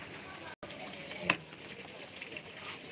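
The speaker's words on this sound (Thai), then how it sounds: "แล้วก็เอาฟัก ที่หั่นเป็นชิ้นๆแล้วมาทอดนะครับ" Battered winter melon pieces fry in hot oil, giving a soft, steady sizzle in the background with a brief sharp clatter near the middle.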